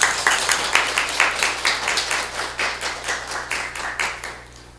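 A church congregation claps together in a steady, rhythmic beat, the applause continuing for several seconds before beginning to taper off.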